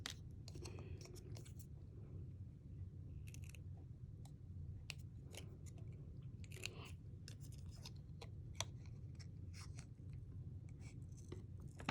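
Scissors snipping paper pieces for a colouring project, a quiet series of short irregular cuts and rustles close by over a low steady background hum.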